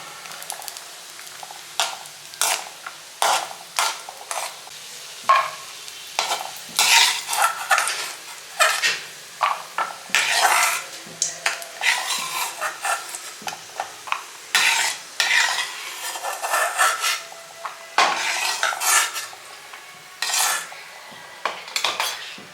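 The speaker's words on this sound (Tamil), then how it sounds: "நல்லா ஃப்ரை பண்ணுங்க." Bread pieces for bread halwa fry in ghee under a busy run of repeated metal spoon scrapes and clanks against the pan, over a soft sizzle, loud and close.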